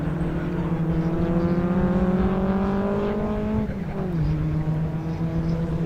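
Race cars lapping Snetterton circuit during a BARC race meeting, including a white MGB, with a loud, continuous engine drone whose pitch climbs steadily and then drops sharply on a gear change or lift before settling again.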